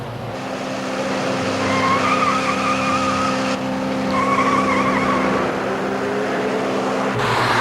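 A runaway car blows past at about 110 miles an hour with tires skidding, a sustained high squeal over a loud roaring engine that fades and resurges across the clip, close and continuous with no talk.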